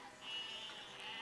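Sheep bleating in the physics building game Besiege, a short high, wavering bleat held for about a second at moderate level with no one talking.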